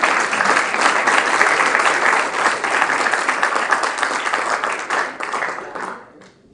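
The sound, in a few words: audience applause at a convocation ceremony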